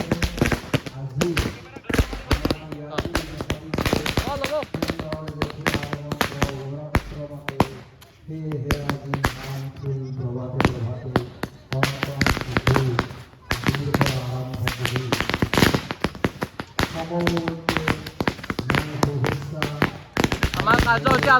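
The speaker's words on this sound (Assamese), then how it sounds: "আমাৰ কাৰ্যসূচী আৰম্ভ হৈ গ'ল একদম ধুনীয়াকৈ বোমা মাৰা কাৰ্যসূচী পূৰা হৈ গ'ল" Firecrackers go off outdoors on a field at the annual session of a dance academy in Bajali, a rapid, dense series of sharp cracks and pops with voices and music running underneath.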